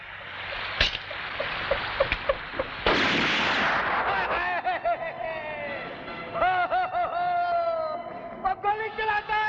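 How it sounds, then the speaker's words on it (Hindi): A sharp gunshot-like bang cracks out as a gun is fired into the sky in a Hindi film scene, then another burst follows, mixed with shouting voices and dramatic music. "गोली चलाता है"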